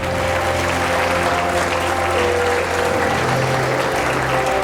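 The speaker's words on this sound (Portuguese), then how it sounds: "Vamos aplaudir o Senhor." A church congregation breaks into sustained applause, a dense, steady wash of many hands clapping close by with faint tones ringing underneath, and no talk.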